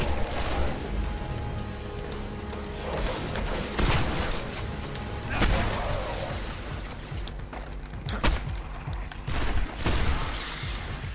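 Burst-fire weapon shots in the shooter game Destiny, repeated short volleys and sharp cracks spaced over several seconds amid combat clatter and rumble, with no voices.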